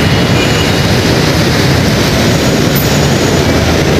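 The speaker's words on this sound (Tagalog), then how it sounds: "Ito yung LRT2." An LRT-2 light rail train passing at a station, heard as a loud continuous broadband rumble and wash of noise with no break, close and steady throughout.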